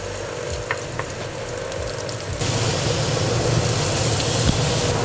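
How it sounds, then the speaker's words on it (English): Chopped onion drops into hot oil in a Dutch oven. A low background hum gives way to a sudden, loud, steady sizzle that continues close up until the end. "Okay, we've got our hot oil. I'm going to put the onion."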